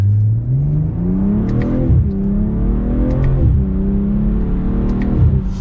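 A 2023 BMW M340i sedan accelerates hard from first gear, its engine note climbing steadily and then dropping with each quick upshift, about three shifts in a loud, continuous run with no talking.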